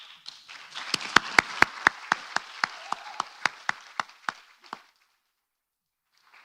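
A modest audience at an academic annual meeting applauds, building into a sustained burst of clapping with a few sharp individual claps standing out, then tapering off and stopping into near silence.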